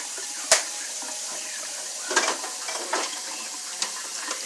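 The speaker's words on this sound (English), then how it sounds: "Give it a quick stir." Fries being tossed and stirred with shaken-on Parmesan cheese for wings and wedges: a sharp clink near the start, then soft intermittent scraping and rustling at close range, with a faint sizzle underneath.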